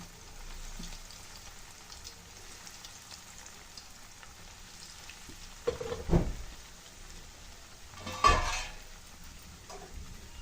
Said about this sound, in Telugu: డీప్ ఫ్రైకి సరిపడా ఆయిల్ అయితే హీట్ అయ్యిందండి సిమ్లో పెట్టుకొని ఇప్పుడు ఈ బ్రెడ్ స్లైసెస్ని వేసుకుందామండి